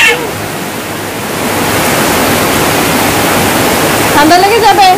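Steady rain pouring down, a loud broadband hiss filling the whole stretch, with a voice chiming in faintly near the end.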